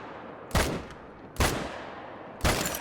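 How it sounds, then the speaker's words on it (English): Three single M1 rifle shots in the Call of the Wild hunting game, fired at a hunting blind, loud sharp cracks spaced about a second apart with short ringing tails and quiet between them. "We're just gonna shoot at the blind down here."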